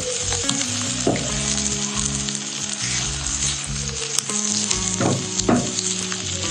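Onion, garlic and green chili sizzle and fry in hot mustard oil, a loud continuous crackle with occasional stirring scrapes and clinks, close by and without talk.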